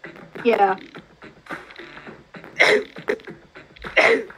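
Someone with hay fever sneezes sharply a few times in close succession, loud and near, with people talking and gaming around them.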